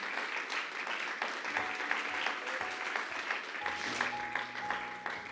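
A church congregation applauding during a sermon, a steady, somewhat distant patter of many hands with faint voices and tones drifting through, holding at a fairly even level throughout.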